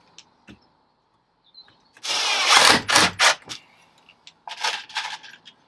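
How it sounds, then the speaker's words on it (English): A power drill pre-drills holes for wall panels inside a Ford Transit van conversion, giving a couple of loud close bursts of whirring with brief pauses, then a shorter second burst, with small clicks and taps around them. "So what I've been doing is I've held it in place, pre-drilling another hole"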